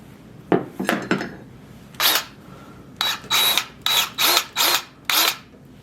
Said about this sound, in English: The DeWalt grease gun with the lock and lube is awesome.